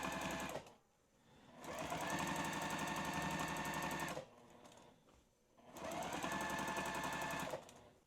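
A sewing machine stitches in free-motion quilting, running in two long, loud, rapid bursts with brief pauses between, close and alone.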